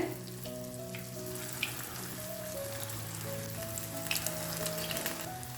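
A wheat flour snack fries in oil heated over a high flame, giving a steady close sizzle with faint bubbling and occasional soft clinks, under a low background hum.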